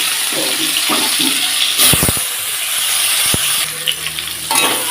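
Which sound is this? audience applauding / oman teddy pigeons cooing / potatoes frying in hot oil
potatoes frying in hot oil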